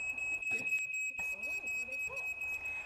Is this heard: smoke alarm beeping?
yes